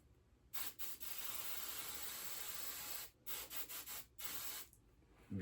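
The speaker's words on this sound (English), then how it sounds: "Spray starch." Spray starch hisses from a can onto a dress uniform tunic's epaulette in short close bursts, one long spray followed by several quick puffs.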